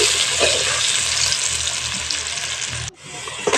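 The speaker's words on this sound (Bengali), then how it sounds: "পেঁয়াজটাকে আমি বাদামি কালারের লালচে করে ভেজে নিব।" Steady, loud sizzling of onions frying in hot oil in a wok, a dense crackling hiss that cuts out abruptly near the end.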